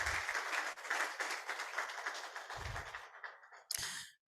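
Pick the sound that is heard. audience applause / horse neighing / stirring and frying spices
audience applause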